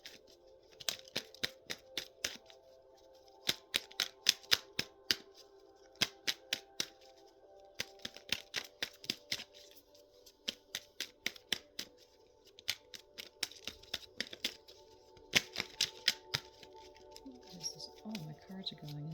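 Tarot cards being shuffled and riffled by hand, sharp papery clicks coming in quick bursts with short pauses between them, close and fairly loud over a steady low background hum.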